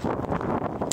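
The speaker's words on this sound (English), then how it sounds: "And it's windy." Wind gusts blow roughly across the microphone on a snowy January day, a steady rumbling whoosh lasting about a second with no voices.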